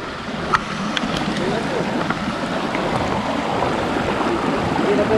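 Tinakayanan Falls roars as a steady broadband rush of falling water heard from the top edge of the cascade, constant and fairly loud with faint voices briefly under it.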